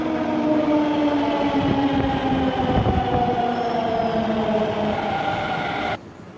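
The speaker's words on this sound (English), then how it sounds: "Yeah, my metro is here." A Delhi metro train pulls in with a steady loud rumble and high whining tones, the noise continuing for several seconds before abruptly cutting off.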